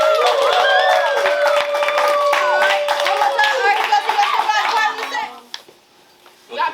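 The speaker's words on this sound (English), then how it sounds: "please give me a great round of applause and clap that for our" Students clap at a school filmmaker Q&A, loud dense applause with children's voices and chatter mixed in, thinning out toward the end.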